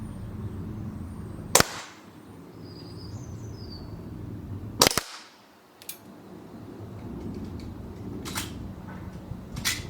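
A WE 1911 full metal gas blowback airsoft pistol fires two sharp, loud cracks a few seconds apart, followed by a few fainter clicks, over a steady low outdoor background.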